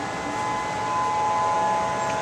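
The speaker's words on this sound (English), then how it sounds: "Here goes the civil defense sirens." Civil defense sirens wail during a tsunami evacuation in Hawaii, holding steady, sustained tones that fill the whole stretch at a fairly loud level without pause.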